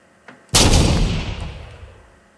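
A sniper rifle shot in a Minecraft weapons mod: one loud, sudden blast that booms and then decays over about two seconds, standing alone with no talk.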